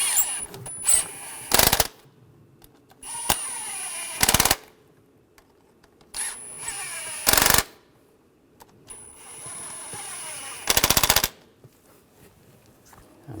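Intake manifold bolts on a 2006-2009 Mercedes-Benz E350 with the 3.5L V6 being run down, heard as several loud bursts of a power tool, each a second or so long, separated by quieter clinks and a faint whine, up close.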